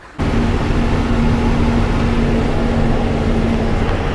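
Sugarcane lorry driving through a forest elephant zone, its engine giving a loud, steady drone with a constant low hum that starts abruptly and runs without a break, with no voices.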